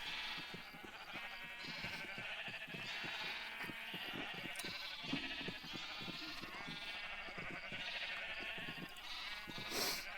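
A close, loud flock of sheep in the game Ancient Kingdoms keeps up continuous overlapping bleats, with a brief louder burst near the end and no voices.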